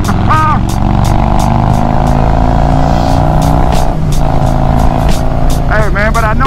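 A Harley-Davidson motorcycle fitted with a Trask Power Plate is ridden fast through a curve, its loud, close engine droning steadily throughout while the rider whoops and talks over it.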